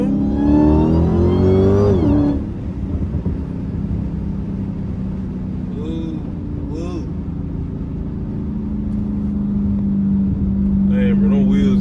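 An 800hp Dodge Hellcat roars loudly through a hard pull with rising engine pitch, then a sudden shift into a lower sustained drone while the car keeps pulling, with faint voices underneath.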